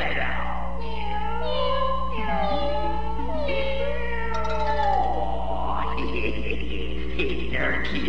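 Six cartoon kittens meow loudly in a rapid stream of overlapping cries over a steady low hum.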